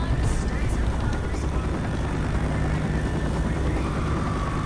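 A helicopter in the video game Left 4 Dead 2 gives a steady, low, droning rumble that lasts throughout, with people talking over it.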